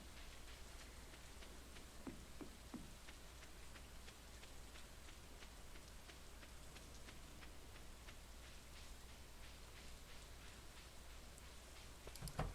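Steady rain falls in the Stardew Valley farming game, a soft continuous patter with scattered light drip ticks throughout, quiet and unbroken with no voices.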